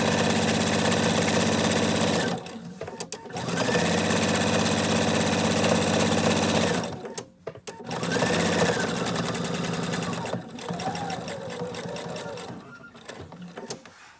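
A sewing machine stitches a cloth napkin in loud, steady whirring runs, stopping briefly for pivots with the presser foot lifted before starting again; no one speaks during the stitching.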